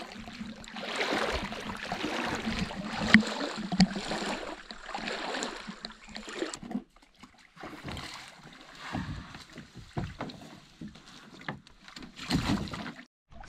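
Canoe paddles stroke the water of a sandy backcountry lake in Temagami, giving soft, irregular splashes and swishes that come and go in bursts, with breezy outdoor ambience and no voices.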